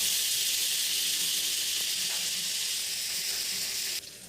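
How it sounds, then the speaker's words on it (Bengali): Butter sizzles in a hot kadai, a steady bright hiss that fills the clip and drops away abruptly near the end. "কড়াই গরম হয়ে গেছে, তো এখন আমি এর মধ্যে বাটার ঢেলে দিচ্ছি।"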